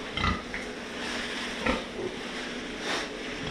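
A pig grunts and oinks intermittently inside a farm shed amid a steady hiss of background noise, the short grunts moderately close and not very loud.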